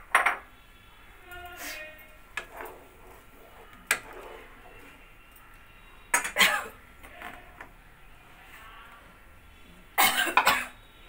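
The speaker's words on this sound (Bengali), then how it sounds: "এবার আমি এই সবজিগুলো সব এর মধ্যে দিয়ে দিচ্ছি" Chopped winter vegetables tipped into a pot of matar daal, heard as a few separate clattering bursts of utensil on cookware with quiet gaps between them.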